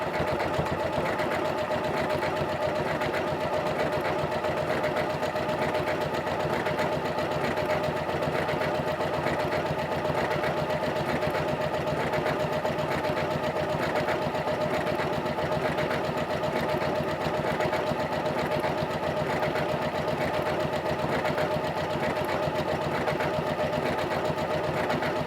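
Janome CM17 sewing machine running a decorative quilting stitch along a seam, a steady, continuous mechanical whir at an even pace for the whole stretch, close and unbroken, with no talking.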